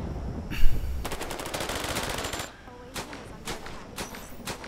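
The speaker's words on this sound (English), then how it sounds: "Yep, you're already shooting those guys down there." Soldiers fire on enemies in the tactical video game Cepheus Protocol, with loud bursts of rapid automatic gunfire followed by scattered single shots and short volleys.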